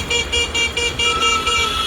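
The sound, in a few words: car horn honking on road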